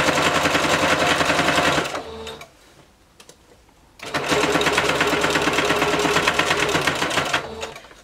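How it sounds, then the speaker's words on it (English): A sewing machine stitches a neckband onto a bodysuit in two loud, fast, steady runs of rhythmic needle chatter, separated by a brief quiet pause. "Just make sure that it's close enough that you're catching the neckband as you're sewing through."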